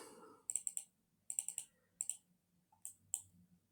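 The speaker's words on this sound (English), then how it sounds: "If you right click it," Mouse clicks on a computer, in short close bursts of two to four sharp clicks with pauses between, quiet and isolated with no talking.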